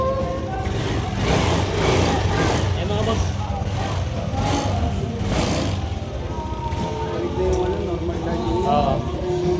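A Yamaha Aerox 155 scooter engine runs just after starting, following a crankshaft position sensor replacement and direct stator-to-ECU wiring fix. It keeps a steady, close idle throughout while someone talks over it.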